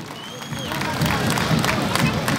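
An audience at an Olympic torch rally ceremony in a stadium in Nepalgunj claps and cheers steadily and loudly, a dense crowd roar with shouting mixed in.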